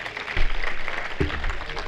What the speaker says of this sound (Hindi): एक बार इनके सम्मान में ताली बजाओ